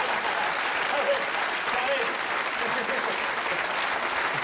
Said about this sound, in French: Applaudis!